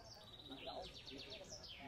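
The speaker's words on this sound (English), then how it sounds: "Even birds are singing beautifully" Birds sing faintly in the distance, with thin repeated chirps and short descending whistled trills layered over a quiet outdoor hum and a faint murmur of voices.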